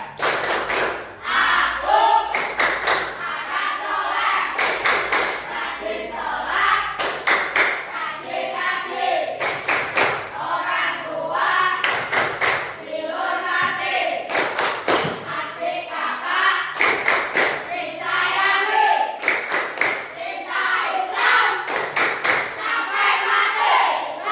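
A class of children claps in a patterned rhythm while chanting the Indonesian "tepuk anak soleh" together loudly, sharp clap bursts alternating with sung lines throughout.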